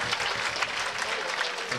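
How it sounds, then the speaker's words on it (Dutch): Short round of outdoor crowd applause for a boys' junior champion at a Frisian fierljeppen (canal pole-vaulting) championship, dense clapping over a couple of seconds with some voices mixed in. "Maak je een applaus voor Wisse Broekstra."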